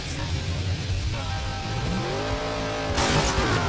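Monster truck and motorbike racing engines in the MX Unleashed motocross video game drone steadily throughout, with a pitch that climbs as the engines rev up, and no talk.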